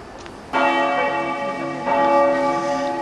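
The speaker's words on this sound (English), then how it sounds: "there's the bell calling us, the bell from the Campanile or bell tower just there, the bell tower of the cathedral" Church bell in the bell tower of the cathedral in Udine, heard as two loud, ringing strikes about 1.3 seconds apart, each leaving a long, humming resonance that overlaps the next.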